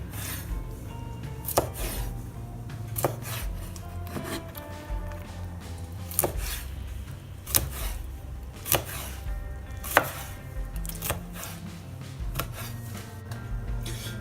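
A knife slicing cleaned squid on a cutting board, with irregular knocks of the blade against the board spaced a second or so apart over soft rubbing and handling sounds, close and fairly quiet, no talking.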